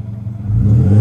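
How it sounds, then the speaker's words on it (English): A Nissan car engine revving up close, a deep low rumble that builds in pitch and loudness over about a second as the throttle opens, ending abruptly. "Charles, this is what my car sounds like."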